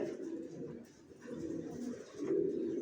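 A young male and female racer pigeon coo nearby in low, continuous rolling calls that swell slightly toward the end.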